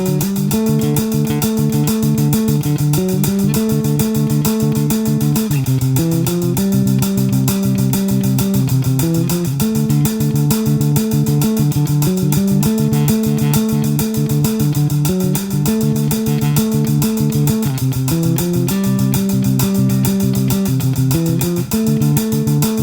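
A bass guitar plays a riff, a steady, driving line of repeated notes with loud, continuous galloping rhythm and no talking.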